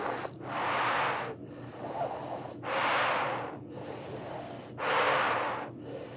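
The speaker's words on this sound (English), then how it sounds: "you can roll your tongue and you roll it like a straw and stick it out. And then you sip the air in like you're drinking through that straw." A person doing yoga breathing sips air in through a rolled tongue, giving three long hissing inhales close to the mic. Each is separated by a short pause and a quieter exhale.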